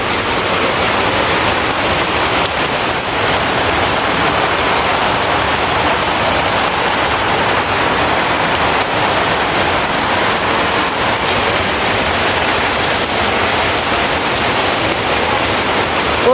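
Heavy rain pours down in a dense, unbroken hiss, loud and close, keeping a steady roar from start to finish with no voices.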